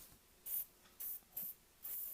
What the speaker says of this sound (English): If I could do it in a small enough amount without just spraying it everywhere